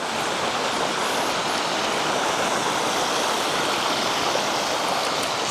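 Steady, dense rush of a waterfall and flowing stream outdoors on a hot day, a constant broadband roar with no breaks, close and fairly loud, with no voices.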